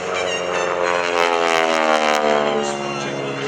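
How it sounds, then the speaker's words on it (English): Stearman biplane with a modified Pratt & Whitney R985 radial engine at an airshow, a loud steady propeller drone with rich harmonics held throughout, swelling slightly mid-pass as it flies by. "This one has a Pratt & Whitney up front. This is an R985 modified."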